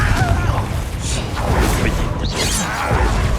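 A Confringo explosive spell is cast in the video game Hogwarts Legacy. It sounds like a continuous dense rumble of blasts and whooshes with fiery crackle, loud throughout and with no talking.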